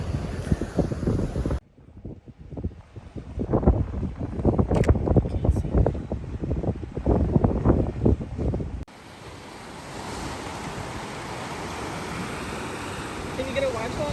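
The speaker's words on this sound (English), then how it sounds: "It is windy." Strong wind buffets the microphone in heavy gusts on the Maine coast, with surf roaring nearby and voices talking briefly beneath the noise.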